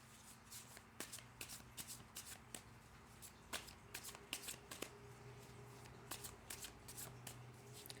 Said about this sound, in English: these cards are very well shuffled